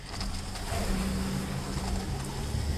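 A 2020 Audi Q3 S Line Quattro engine holds steady under throttle during an off-road test with a rear tire lifted, a loud, continuous drone with no breaks.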